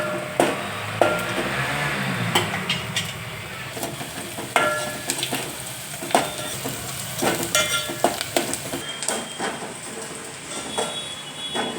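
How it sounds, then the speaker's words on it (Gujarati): Onions sizzle and crackle in a hot pan, with repeated scraping and stirring clicks over a steady frying hiss. "હવે ડુંગળી થોડી રાતી થઈ જાય."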